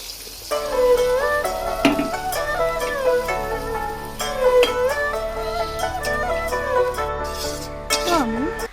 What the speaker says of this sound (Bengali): তো আমি ডিমটাকে ভালোভাবে ভেজে নিচ্ছি এখন।